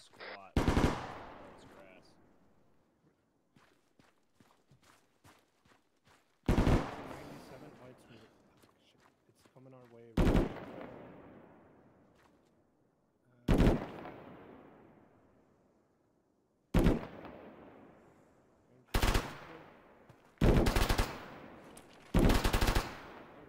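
Heavy gunfire in the Arma military video game, fired at a technical vehicle: about eight separate loud, sharp volleys with ringing decays, spaced a few seconds apart, the last few close together, with a light patter of smaller shots between the first two.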